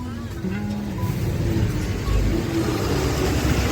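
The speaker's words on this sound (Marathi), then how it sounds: "मजबूत ट्रॅफिक झाले" Heavy road traffic on the Mangaon road: a continuous low rumble of car and vehicle engines with mid-range revving nearby, under faint background talk.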